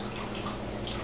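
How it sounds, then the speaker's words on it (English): Running water splashes steadily as a hand is rinsed under a tap, a brief close wash. "I'm going to rinse my hand off"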